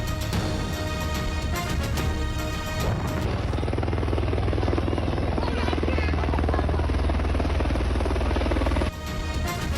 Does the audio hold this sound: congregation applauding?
no